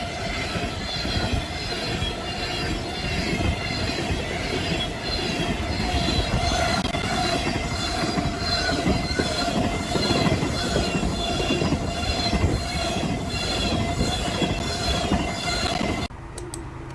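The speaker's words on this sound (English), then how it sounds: "we have a B706 with a CSX AC44 leading 2 CN-9s" A CSX AC44 diesel locomotive leads two CN units, one of them an Illinois Central unit, at the head of a freight train. It rolls past close by as a loud, continuous roar of engines and rumbling cars with rhythmic wheel clatter, then cuts off abruptly.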